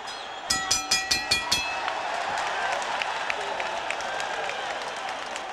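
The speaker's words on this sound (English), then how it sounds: "Crowd roaring at the Forum as Barrera winds up." The crowd at the Forum roars at a WBO super bantamweight boxing match. A quick run of ringing bell strikes opens it, then a loud, steady wall of crowd noise follows.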